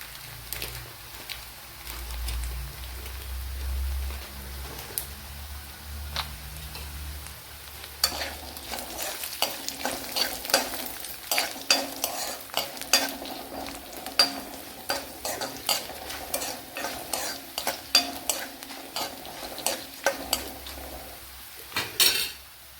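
Three cardamom pods and cashew nuts frying in a pan for duck egg curry: a low rumble at first, then a quiet sizzle with a dense run of metallic spoon scrapes and taps against the pan, close and uneven.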